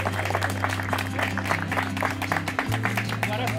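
A group of friends at a car club gathering claps for Urnal, steady rapid clapping over a loud, constant hum of music or an engine.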